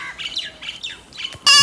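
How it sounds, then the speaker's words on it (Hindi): Birds squawk in a series of harsh, close calls with short gaps, ending in a louder, abrupt burst of noise. "परिंदों की बोलियां थोड़ा सुन लें।"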